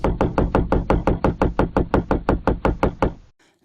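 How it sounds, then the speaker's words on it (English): A van door is struck by a steady run of about twenty evenly spaced, loud knocks over three seconds, close and hollow, ending abruptly into near silence. "knocking is just knocking"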